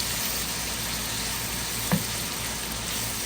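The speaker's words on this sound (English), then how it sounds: "Let's mix that around in our vegetables." Mushrooms and vegetables sizzle steadily in a hot pan with oil, a continuous loud frying hiss with a brief stirring knock partway through, no voices.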